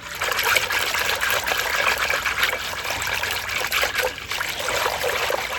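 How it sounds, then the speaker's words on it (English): Powdered calf milk being whisked in water, a steady wet sloshing and trickling that keeps going without a break. "And we just whisk it."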